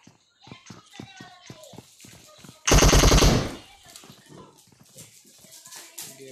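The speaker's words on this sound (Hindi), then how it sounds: "गोलियां बहुत तेज में गॉडज़िला ने गोलियां चलाई है" In the PUBG video game, a short, loud burst of rapid automatic gunfire rings out over an excited voice commentating, with quieter game sounds before and after.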